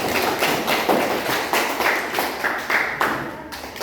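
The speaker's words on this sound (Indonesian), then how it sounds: "Ya, kita kasih aplaus untuk" Students in a classroom applaud together, producing a steady, rhythmic series of claps at a quick, even pace, fairly close and loud, with no talk over it.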